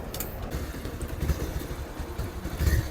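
A motorcycle engine idles nearby with a steady, low, throbbing rumble and faint clattering, no voices.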